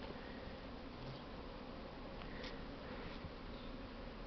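A dense, steady buzz of many bees around a hive with few remaining bees clustered between two frames, continuous and close with no voices.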